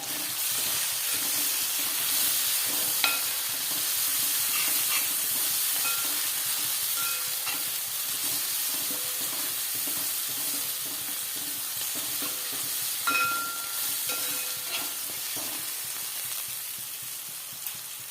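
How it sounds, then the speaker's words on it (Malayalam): Onions sizzle and sauté in a hot pan, a continuous crackling hiss with occasional stirring scrapes and clinks, steady and close throughout. "ഈ സബോള ഒന്ന് വഴന്ന് വരട്ടേട്ടാ കേട്ടോ"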